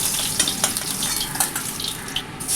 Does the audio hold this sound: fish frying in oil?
yes